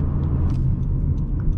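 A 2021 Honda Civic four-cylinder engine gives a steady, dense low rumble that holds even and close throughout, with no talking.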